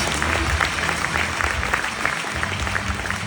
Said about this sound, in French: vous pouvez encore l'applaudir s'il vous plaît